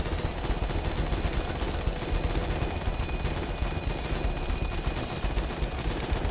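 Continuous rapid gunfire from the indie game Gunnheim, a steady dense rattle of shots at even loudness running throughout without pause.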